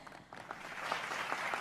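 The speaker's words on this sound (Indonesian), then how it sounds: "berikan tepuk tangannya untuk Pak Anderson." Steady applause from an audience at a talk show event in Indonesia, a dense patter of clapping heard from a little distance with no voices over it.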